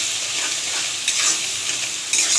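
Ground spices stir-fried in hot oil in a pan for homemade chicken biryani, a bright continuous sizzle with a few louder scraping stirs.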